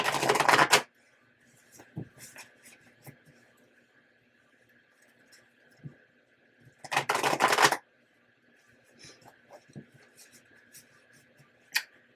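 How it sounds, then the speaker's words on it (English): Two bursts of tarot card shuffling, a riffle near the start and another around the middle, with quiet tapping and handling sounds in between. "Give this one more good shuffle."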